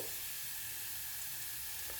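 Garlic sizzling steadily in hot oil in a pan while South Indian mango pickle is being made, a continuous, even hiss with no speech.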